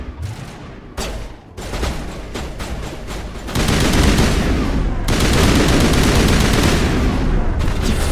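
Gunfire in the Mass Effect 1 video game, including an enemy's shotgun, comes as a dense, loud barrage of close blasts, first in separate bursts and then in a continuous roar of overlapping shots.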